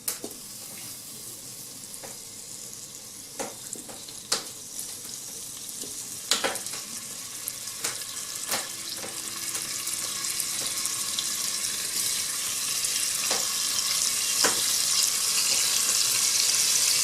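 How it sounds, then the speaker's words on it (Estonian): Thawed meat frying in a multicooker pot for plov, a steady close sizzle that builds gradually, with occasional sharp clicks and knocks. "Liha nüüd praeb selles potis."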